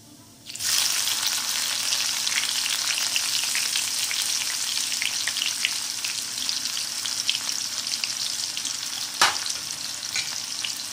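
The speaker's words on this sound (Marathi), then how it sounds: "कांदा हा थोडा परतून घ्यायचा, थोडा त्याला कलर आला पाहिजे" Onion and cumin seeds hit hot oil in a pan for a cucumber curry, bursting into a loud, continuous sizzle that holds steady, with one sharp clink of a utensil near the end.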